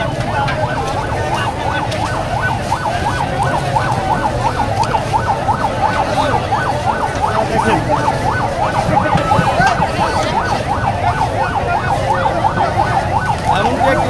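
An ambulance siren wails in a fast repeating rising-and-falling cycle on an airport road, loud and close over traffic noise, with people talking briefly.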